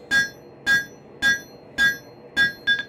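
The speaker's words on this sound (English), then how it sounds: "I'm gonna work on drawing this blade out a little more, and I'm gonna use the horn of my anvil to pull it out" Hammer striking a steel blade on the horn of an anvil during forging, six sharp ringing metallic blows in a steady rhythm about half a second apart, close and clear with quiet between hits.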